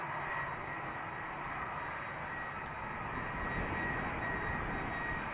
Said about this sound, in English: Meanwhile, another A330 from KLM also coming this way.